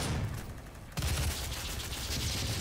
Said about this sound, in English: This guy's trying to shoot me